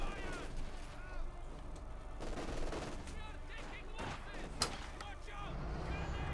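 Rapid machine-gun and rifle bursts rattle through a Company of Heroes 2 battle between Wehrmacht and Soviet forces, mostly mid-distance and moderately loud, with a sharp shot near the end and a commentator talking over it.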